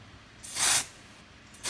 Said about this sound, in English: spray a light layer, allow it to dry